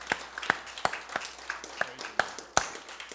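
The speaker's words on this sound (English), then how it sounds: "Give the Lord a hand clap." Scattered hand claps from a church congregation during a Sunday service, around a dozen sharp, uneven claps in a loose rhythm over a few seconds, fairly close.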